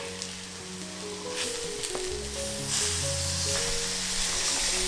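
Worcester sauce hitting hot gravy in a pan for bangers and mash, a steady bright sizzle that swells louder partway through as the liquid spreads, with soft stirring clinks underneath.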